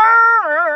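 A voice imitates a big dog's bark, giving one loud, sustained, throaty woof-like call that dips and wavers in pitch near the end.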